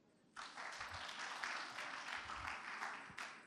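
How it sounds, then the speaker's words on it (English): After a short quiet lead-in, an audience at a business conference breaks into steady applause for a doctor who has just spoken, holding at an even level to the end. "Please, another round of applause for him."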